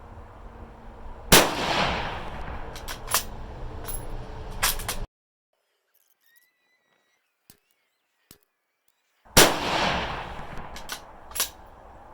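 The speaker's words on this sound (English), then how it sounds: "Shoot another group here." Two loud, sharp rifle shots from a Savage 12FV in an Oryx chassis, spaced about eight seconds apart, each with a booming echo that fades, plus lighter clanks of the action in between.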